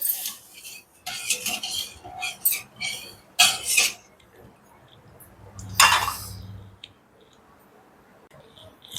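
A spoon scrapes and clinks against a pot while sugar is stirred into hot milk for fruit custard, giving several close, bright bursts of scraping with quiet pauses between them.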